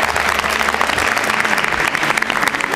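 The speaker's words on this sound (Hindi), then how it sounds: "तालियां जोरों से बजनी चाहिए" Loud, close applause fills the hall at a Rajasthan state round of a National Election Quiz show, with many hands clapping vigorously and a faint crowd murmur beneath it.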